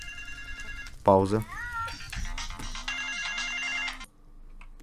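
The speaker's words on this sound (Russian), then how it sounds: "мне кто-то звонит" A phone ringtone rings during Minecraft gameplay, a steady electronic melody of repeated tones that carries on for several seconds before cutting off, heard under a voice and game sounds.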